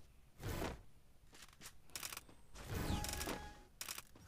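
Bursts of gunfire in the Free Fire mobile shooter game, several short volleys of rapid shots spread across the stretch, fairly loud with brief gaps between them and no talking.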